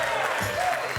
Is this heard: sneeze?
no